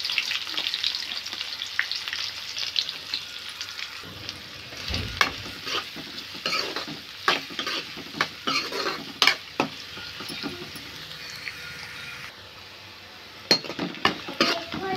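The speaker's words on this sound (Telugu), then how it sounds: "ఇవి ఫ్రై అయిన తర్వాత పచ్చిమిర్చి, ఆనియన్స్ వేసుకుంటున్నాను." Green chillies and onions fry with curry leaves, cumin and dried red chillies, a steady close sizzle broken by scattered clinks and scrapes of a spoon stirring against the pan, with no voices.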